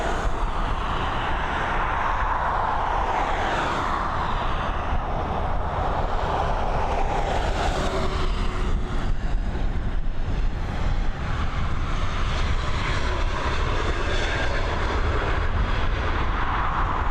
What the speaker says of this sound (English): It's A321 Neo heading over to Istanbul.